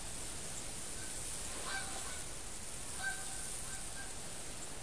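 Geese honking in the hunting game theHunter 2015, two short far-off bursts of calls over a steady windy ambient hiss.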